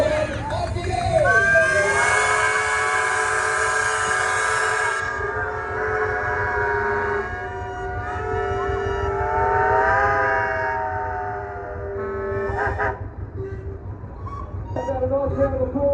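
Several traction engines and steel-wheeled tractors roar off together with loud blaring whistles sustained over a cheering crowd, tones shifting as they pull away, then a brief hiss and clatter near the end.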